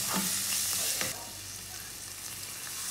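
Garlic, onion and pechay sautéing in a pan for tofu kare-kare, with a steady close sizzle and a few stirring scrapes near the start.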